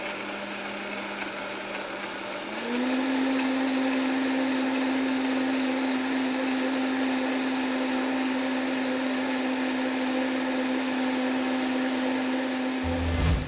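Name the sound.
blender grinding spice paste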